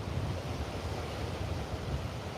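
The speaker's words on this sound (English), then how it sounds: "the wind is pumping" Strong wind buffets the microphone on a Melbourne beach where kitesurfers ride, a loud continuous rushing roar with low gusty rumbles and a hint of surf beneath.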